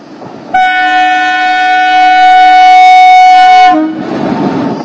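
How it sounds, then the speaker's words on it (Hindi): Train passing through a forest near Manoharpur, Jharkhand, sounding a loud, sustained horn blast of about three seconds, with rumbling wheels before and after. "ये देखो ट्रेन आ गई।"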